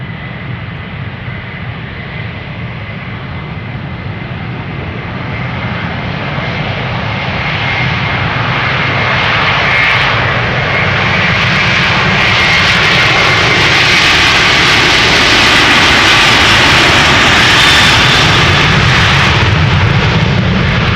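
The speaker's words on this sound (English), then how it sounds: "Delta Airlines flight 243 to Boston, Massachusetts. It's an A330-300." A Delta Air Lines Airbus A330-300 jet bound for Boston takes off at Amsterdam Schiphol, its engines building from a steady roar to a massive, rumbling thunder that stays loud and close for the whole stretch, with no voices.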